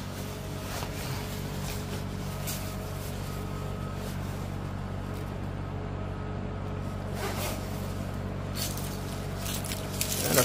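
A jacket zipper being done up while someone puts on a jacket, a soft continuous rasp over steady low background hum, close and fairly quiet with a few brief scuffs.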